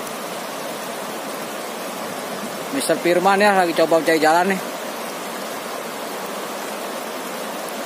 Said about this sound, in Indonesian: Nyebrang di Sungai Cikaon nih.